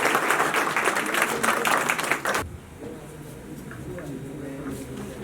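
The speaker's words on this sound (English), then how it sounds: "Let's give a huge round of applause for them." A college yearbook event audience breaks into loud, dense applause that stops abruptly after about two seconds, leaving a quieter room.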